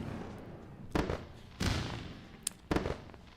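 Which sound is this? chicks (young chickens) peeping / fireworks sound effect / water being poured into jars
fireworks sound effect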